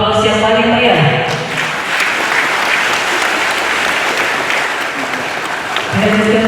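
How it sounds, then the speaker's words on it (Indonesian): Loud, sustained applause fills a hall at a military ceremony in the Pangdam XIV Hasanuddin command, with voices and music heard at the start and end around the clapping. "Kita berikan aplaus yang paling meriah."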